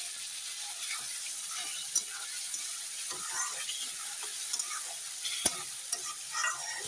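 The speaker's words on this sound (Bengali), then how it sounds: "এখন ভালো করে আমি একটু জল দিয়ে আবার মশলাটা করে কষিয়ে নেবো তেল ছাড়া পর্যন্ত।" Masala spice paste with a little water is stirred and fried in oil, a soft continuous sizzle broken by scraping strokes and a few sharp clicks of the spoon against the pan.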